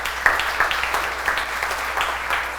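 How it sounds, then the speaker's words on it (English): Audience applause in a hall at a college opening session, a steady wash of many hands clapping at moderate loudness for a few seconds with no one speaking. "that deserves some applause"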